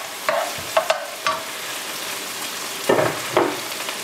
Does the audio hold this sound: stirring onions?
yes